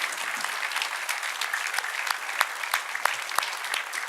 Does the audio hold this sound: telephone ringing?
no